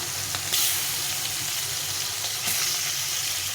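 Shol fish fry in spiced oil in a pan, a continuous bright hiss and sizzle with two louder surges of spatter, close and with no talking.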